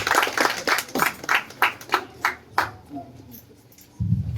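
Congregation members in a Spanish-language church service clap hands as an offering of praise, a series of sharp, fairly rhythmic claps that fade out, with a voice and a low hum near the end.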